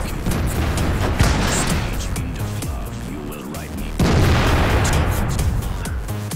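Tank cannons fire in a World of Tanks battle on Siegfried Line, with an M48A1 Patton involved, giving heavy booms over continuous game noise and music that play loudly throughout.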